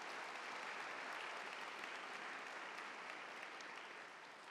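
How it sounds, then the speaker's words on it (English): Faint, steady applause from a convocation audience for award winners seated down front, a continuous wash of many hands that tapers slightly at the end. "let's all join in for a pre-applause for these amazing award winners down front"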